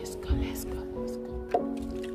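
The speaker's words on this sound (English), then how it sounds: "Let's sanitize your hands." Hand sanitizer dispensed onto a child's hands at a doctor's office: two short squishy squirts against ongoing children's chatter and voices.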